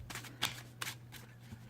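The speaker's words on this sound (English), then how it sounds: "Super easy riffle shuffle there." Riffle shuffling a deck of Game of Thrones tarot cards, a few quick close papery riffle bursts with brief pauses between them, quiet and alone.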